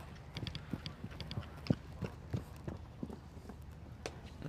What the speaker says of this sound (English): he walks away, then trots up that strip to make the turn round the Speedy Beat sign.